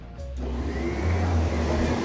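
A vacuum cleaner motor runs close by, a loud, steady droning whine that swells slightly after starting and holds constant, with no voices over it.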